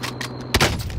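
Gunfire in the Call of Duty Cold War video game, with sharp rapid shots in a short burst of loud reports and a heavier blast near the end.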